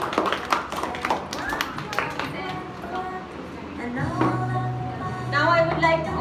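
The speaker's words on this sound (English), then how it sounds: "Do the clapping." Children at a school Animals Day event clap, with scattered uneven hand claps and taps near the start mixed with young voices talking and calling out, then a sung or drawn-out voice rising toward the end.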